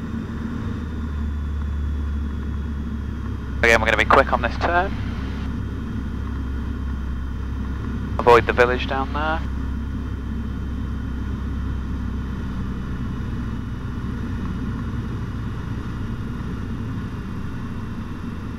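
A Piper PA28 light aircraft engine drones steadily and evenly inside the cockpit throughout, with a person briefly speaking over it twice.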